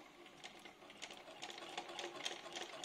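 A sewing machine stitches fabric in a rapid, steady run of ticking needle strokes, heard faintly and alone.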